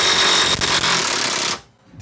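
Power tool hammering at a rusty bolt on a project car's suspension: a loud, continuous rattling impact burst lasting about a second and a half, then cutting off.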